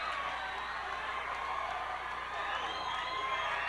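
A wrestling crowd at a 1981 Southwest Championship Wrestling match cheers and whoops steadily, a dense roar with shouts rising over it throughout.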